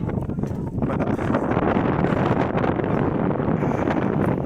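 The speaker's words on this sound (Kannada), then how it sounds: "ಗಾಳಿ ಕ್ರೇಜಿ ಇದೆ, ಗಾಳಿ ಮಾತ್ರ ಸಖತ್ತಾಗಿ ಬರ್ತಿದೆ" Strong wind buffets the microphone outdoors during an off-road outing, a loud continuous broadband roar that stays steady throughout with no clear talk.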